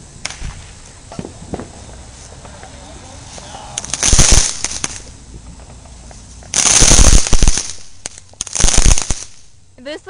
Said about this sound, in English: There's like fireworks everywhere.